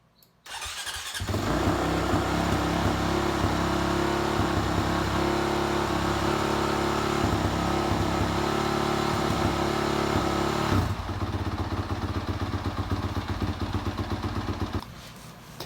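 A 2017 Honda CRF450RX motorcycle engine idles steadily while warming up, a loud, continuous mid-pitched drone that starts abruptly, runs evenly for about ten seconds, then drops to a slightly lower, rougher idle before cutting off.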